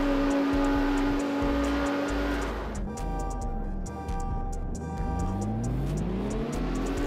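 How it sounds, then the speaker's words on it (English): Porsche race car engine in the street-racing game CarX Street, revving hard and climbing through the gears, with a steady high tone that drops at a shift and then sweeps upward again, loud and close. "this Porsche is still moving"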